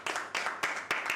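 A church congregation applauds the Lord, with four short, sharp bursts of clapping in quick succession close by.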